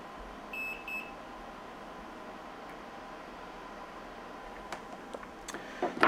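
A multimeter beeps during a continuity test on the wires of an Xbox One headset under repair: two short, clear electronic beeps near the start, then quiet room hiss and a few faint clicks.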